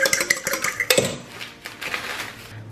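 Eggs whisked in a bowl for meatloaf, with a quick run of close, rhythmic clinking taps of the whisk against the bowl that slows into softer scraping.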